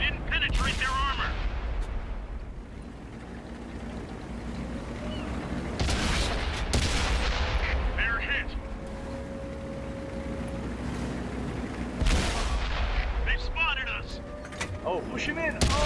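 Tank cannon blasts in World of Tanks, several loud booming shots spaced apart over battlefield rumble, with voices talking between them.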